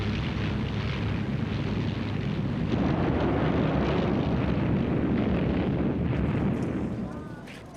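Wartime Luftwaffe air raid over Malta in 1942: a dense, loud roar of aircraft engines mixed with rumbling blasts and bomb explosions, sustained for several seconds before fading, with no talking over it.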